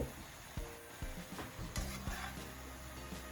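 Straw mushrooms dry-roasting in a pan make a soft, close sizzle, while a utensil scrapes and stirs against the metal in repeated short strokes, with no talking.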